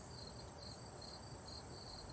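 Crickets chirp outdoors in faint, evenly repeating trills over a soft, steady background hiss, with no voices present.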